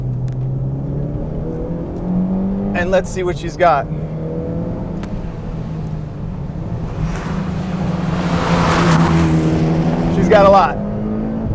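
A tuned Mitsubishi EVO X pulls up a tight, twisty mountain road, its engine rising and falling through repeated accelerations, loud and close, with someone talking over it.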